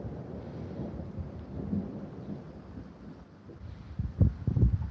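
Thunder rumbles through a dusk storm with rain and wind buffeting the microphone, building from a steady low roll to louder, closer cracks near the end, with no voices.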